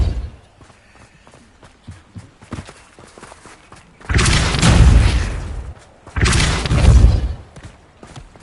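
Depulso spell effects in the Hogwarts Legacy video game: two loud, broad whooshing blasts about two seconds apart, each swelling and fading, after a stretch of light footsteps and soft thuds.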